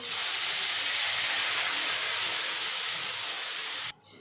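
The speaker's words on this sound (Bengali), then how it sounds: "ঝোলটা ফুটে গেছে" Fish curry broth with fried hilsa and brinjal boiling hard in a pot, a loud steady rushing hiss of bubbling and steam that cuts off abruptly near the end.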